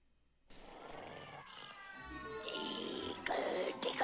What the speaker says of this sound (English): Kopeck, you stop that, you bad kitty.